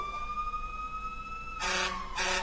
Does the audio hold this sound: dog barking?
no